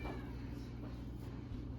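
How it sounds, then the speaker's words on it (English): A cat meows faintly in a quiet room, a soft cry or two over low background hum, no talking. "And my cat's meowing."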